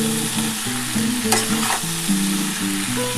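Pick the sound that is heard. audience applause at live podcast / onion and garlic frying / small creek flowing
onion and garlic frying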